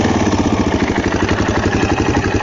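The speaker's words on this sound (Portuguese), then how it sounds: "Você liga o motor" A running motorcycle engine idles steadily after starting, a loud, close, even rhythmic putter throughout with no talking.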